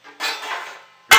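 A pot lid is picked up over a simmering pot of rolled calf's head, a brief scrape and airy rush followed by a sharp metallic clack at the end, close and loud.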